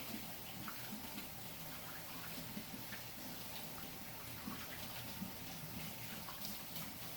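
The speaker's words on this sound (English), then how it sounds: "I'm going to go ahead and wash my hands" Hot water runs from a kitchen tap during handwashing, a steady, moderately quiet rushing stream with faint splashes throughout.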